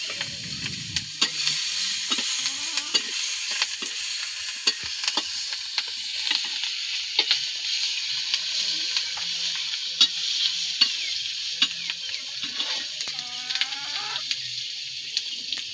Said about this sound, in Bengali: তো মাছগুলো তুলে নিয়ে একই তেলের ভিতরে আমি পেঁয়াজ মরিচগুলো ভাজা নিব।